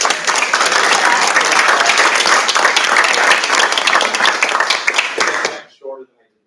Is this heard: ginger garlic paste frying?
no